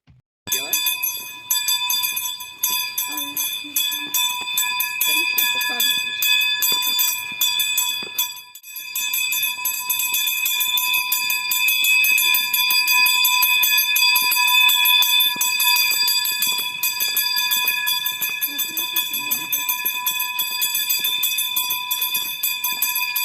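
A school bell rings at a last-bell ceremony at Zamostianska general school in Ukraine. It holds a steady, bright, continuous electric ring at a fairly loud level for the whole stretch, with a short dip partway through.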